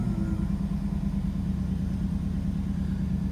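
A Camaro F-body car engine idles smoothly at close range, a steady low rumble with an even pulsing rhythm held throughout, with no talk over it.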